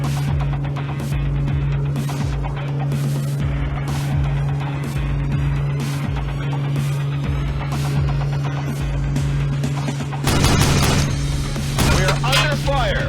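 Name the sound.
gunfire in a video game battle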